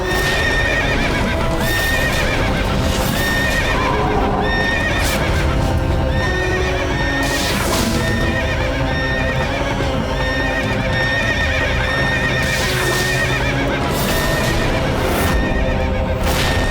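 A horse neighs repeatedly while hooves clip-clop steadily, loud and close, layered over a dense, busy backdrop of other sound throughout.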